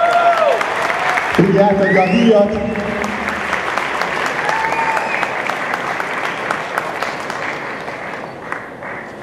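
Applause at the 2016 Scitec Nutrition Achievement Award ceremony, a dense crowd clapping throughout, loudest early and easing slightly, with someone speaking over it and some music briefly in the first seconds.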